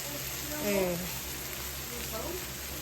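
Sliced bitter gourd (korola) sizzles steadily in hot oil in a pan, a soft rain-like crackle that holds even throughout while someone talks over it.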